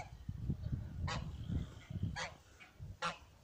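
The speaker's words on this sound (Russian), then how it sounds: "Это не Гошка. Это инкубаторский гусь." An incubator-bred goose honks several times out in a vegetable garden, sharp calls rising over a low rustling, shuffling background, moderately close.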